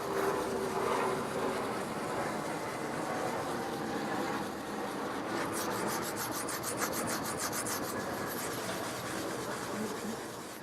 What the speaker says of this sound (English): Now I'm spending some time to clean in the pores and make sure that we scrub that leather.